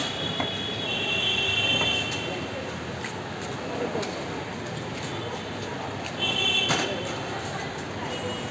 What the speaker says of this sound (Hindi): सामने मेट्रो निकलती हुई